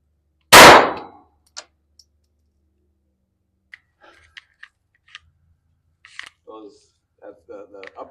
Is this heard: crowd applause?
no